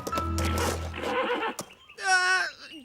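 A horse whinnies loudly with a wavering, descending call in a children's programme, following a stretch of music and voices.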